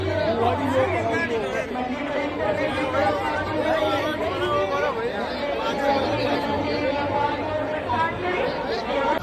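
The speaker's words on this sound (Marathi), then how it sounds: "फुल गर्दी आज इकडं पण" A large crowd chatters outside Mahakaleshwar temple in Ujjain, making a steady, close hubbub of many overlapping voices that continues unbroken throughout.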